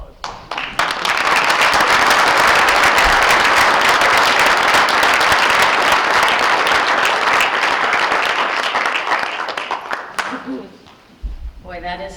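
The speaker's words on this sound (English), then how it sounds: "and then you can applaud." Audience applause for students at a school committee meeting, dense clapping that swells in quickly, holds steady for several seconds, then tapers off into a few scattered claps and faint talk.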